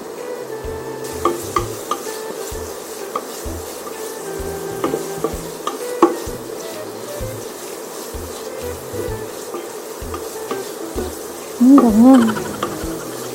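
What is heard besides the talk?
sautéing onion and ginger in a pan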